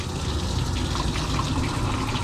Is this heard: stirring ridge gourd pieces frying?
no